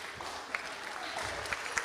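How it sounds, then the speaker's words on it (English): Audience clapping hands at a Sunday feast arati gathering, a steady crowd patter with a few sharper nearby claps standing out, continuing throughout. "those who have a hand, they will clap."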